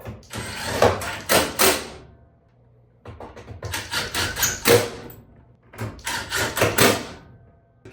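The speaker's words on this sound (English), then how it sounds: "4 screws up here can go back in." Screws go back into a Samsung washing machine with three bursts of close mechanical ratcheting and rattling, separated by short pauses.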